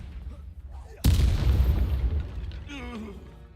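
A fire spell bursts in the Hogwarts Legacy video game as a single sudden loud blast, followed by a rolling crackling decay, with a voice speaking over the tail.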